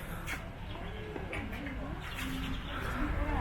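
Pigeons at a holiday hotel in Turkey give soft, low cooing calls amid a busy background of chirping birds and ambient noise, with people talking nearby.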